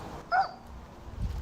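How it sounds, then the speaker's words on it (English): A dog gives a single short, high yelp at a distance, faint and brief, followed by quiet background. "there's a dog that needs saving"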